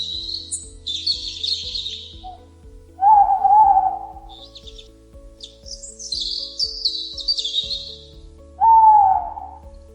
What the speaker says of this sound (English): Owl hooting in the morning.